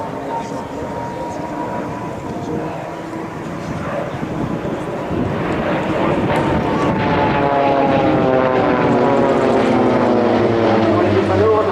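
Swiss Air Force Pilatus PC-7 propeller aircraft crossing during a display at the Kleine Brogel airshow in Belgium: a droning propeller engine swells louder with rising harmonic whine as it passes close, under a commentator talking over a public address system.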